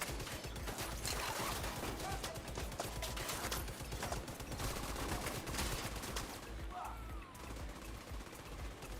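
Rapid automatic gunfire in The Division 2, dense bursts of shots crackling almost continuously for several seconds, loud and close with brief lulls, game effects mixed in.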